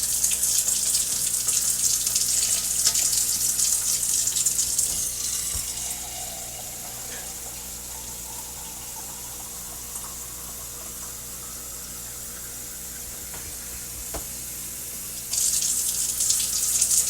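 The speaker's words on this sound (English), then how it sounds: "And I'm going to add some water to it." A kitchen tap runs water into a cooking pot of chicken soup, a steady loud hiss that drops to a quieter trickle midway and then surges strong again near the end.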